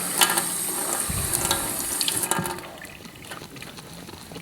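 Soapy eyeglass lenses rinsed under a running faucet, water splashing and trickling irregularly with small clatters, fairly close, then the flow softens near the end; no talking.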